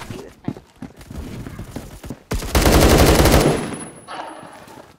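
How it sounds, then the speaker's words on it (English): In the video game Phantom Forces, an unsuppressed gun fires one loud rapid automatic burst lasting about a second, following a stretch of quieter game ambience and scattered clicks. "Forgot how loud this gun is without its suppressor"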